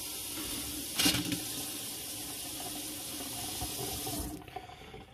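Water streams steadily from an RV faucet for several seconds, a close, even rushing hiss that cuts off abruptly near the end.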